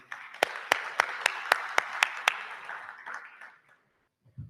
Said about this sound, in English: Everybody, give a round of applause for Tabby.